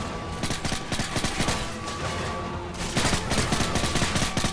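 Laser weapons firing in Call of Duty Modern Warfare 3, rapid bursts of gunfire rattling in dense volleys throughout, loud and close, intensifying in the second half with no talk.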